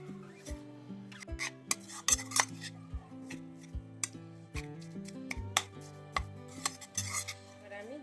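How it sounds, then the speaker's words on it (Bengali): Grated coconut being mixed with date palm jaggery for bhapa pitha filling, with repeated utensil clinks and scrapes against a metal pot in an irregular rhythm, close and fairly loud, with no talk. "নারকেল কোড়ানোর সাথে আর খেজুর গুড়ের সাথে আমি একবার মিশিয়ে নেব।"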